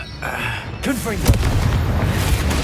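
Confringo blasting spell detonating in Hogwarts Legacy, a sharp explosive burst with a booming low rumble amid swirling magical effects and game music, with a shouted voice earlier.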